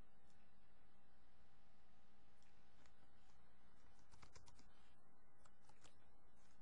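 Typing text on a computer keyboard while working in Photoshop, faint scattered key taps over a steady hiss, clustering into a quick burst near the end.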